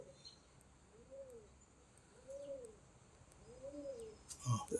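Domestic pigeons kept at home coo softly in three slow, evenly spaced rounds while being given medicine, faint and close, with small rustles and a sharp clatter at the end.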